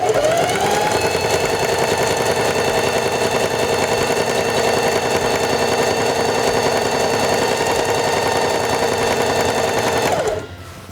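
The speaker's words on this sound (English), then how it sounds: "Stop sewing when you've reached the end of your fabric." Heavy Duty 4411 sewing machine stitching fabric, a steady, loud, close mechanical whir that runs evenly for about ten seconds and then stops.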